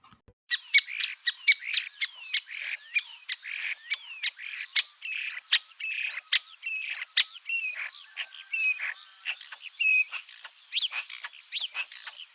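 Starlings sing in spring, a busy, close run of varied chirps, clicks, rattles and whistled notes that keeps going without a break, with no voices.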